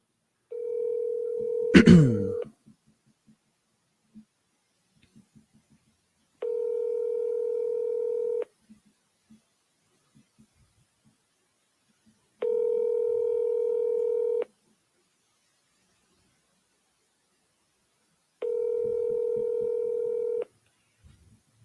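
A telephone placing an outgoing call to a real estate agent gives a quick burst of dialing tones, then three long ringback tones evenly spaced in near silence.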